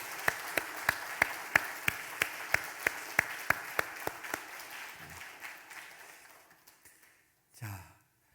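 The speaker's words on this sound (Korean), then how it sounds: "다시 한번 건강한 모습으로 잘 다녀오시도록 축하하면서 박수 한번 하시겠습니다" A church congregation at a Sunday worship service claps together in a slow, even rhythm, about a dozen distinct claps that soften and trail off into quiet, with a faint breath or murmur at the end.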